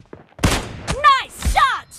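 A few quick gunshot bursts from the mobile battle game PUBG Mobile Lite, sharp close bangs spread over two seconds and mixed with game announcer voice lines.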